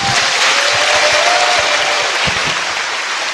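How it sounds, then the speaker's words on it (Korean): An audience at a live talk-show taping in Gwangju bursts into sustained, loud applause, a dense wash of clapping filling the room from start to finish with no speech over it. "자, 두 분은 박수 부탁드립니다."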